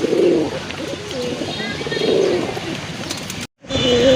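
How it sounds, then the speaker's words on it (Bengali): Pet pigeons, a Giribaz pair among other breeds in a loft, coo in low, throaty, repeated calls that come close and clear, with a brief cut to silence near the end. "এই যে দেখেন আরেক জোড়া কবুতর মাশাআল্লাহ, এটা গিরিবাজের ভিতরে এক জোড়া কবুতর।"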